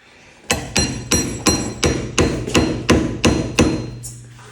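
Hammer blows strike the brake rotor of a Coolster 125cc ATV, about nine sharp metallic whacks in steady rhythm, close and loud, each with a ringing tail, with no talk.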